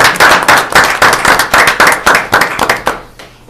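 A small group applauds at a public health and human services board meeting, a handful of nearby hands clapping in a loose, uneven rhythm that thins out and fades near the end.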